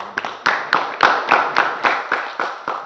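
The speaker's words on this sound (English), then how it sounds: "Big round of applause to Vishal." A small group claps in a loose, sparse rhythm at a satsang gathering in a cultural centre, with about ten distinct claps spread across the moment, close and moderately loud.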